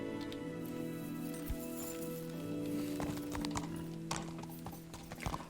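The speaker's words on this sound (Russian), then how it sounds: "Это лошадь Рацига." Horse hooves clip-clop in the medieval video game Kingdom Come, a few scattered soft hoofbeats over a quiet, hum-filled game background, with a faint neigh-like note briefly sounding.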